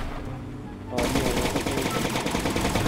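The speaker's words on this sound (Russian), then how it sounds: "Он может пушки, он может стрелять." A robot in the Brick Rigs video game opens fire with its guns, quiet at first and then suddenly a loud, continuous rapid burst of machine-gun fire with a voice faintly underneath.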